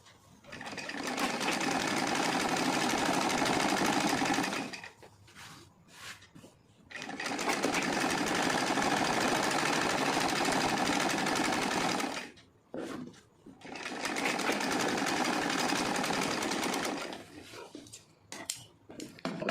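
A sewing machine runs in three long bursts of steady stitching on an old heavy silk saree, with short pauses between runs and no talking.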